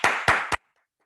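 Three bursts of hand clapping during a virtual company meeting, close and fairly loud, evenly spaced across about half a second and then silence, with no talking.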